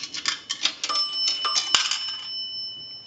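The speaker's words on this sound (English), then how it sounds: "We're going to use a dime. That will ring the bell 2 times." Two bell strikes from an Automatic Electric three-slot payphone as a dime is deposited, clear metallic dings over a second apart, mixed with coin-mechanism clicks, the second tone lingering and decaying; close and without speech.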